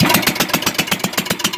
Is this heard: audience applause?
no